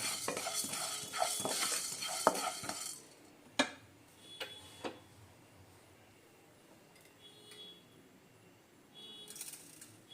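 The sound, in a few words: cumin seeds frying and stirred with a spoon in pan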